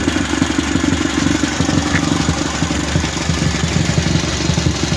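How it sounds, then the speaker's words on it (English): A car engine idling after a Weber carburetor swap, with a slight misfire and a suspected exhaust leak: a steady, close, low rumble with a faint uneven clatter and no talk. "It seems to be idling a little bit better."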